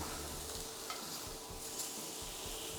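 Steak searing in a hot stainless steel pan, a steady broadband sizzle holding at an even level throughout with a few soft knocks as the meat is turned.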